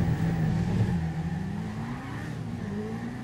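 Motorcycle engine in GTA V droning steadily with a slight pitch sweep, loud and continuous under faint game noise, no speech.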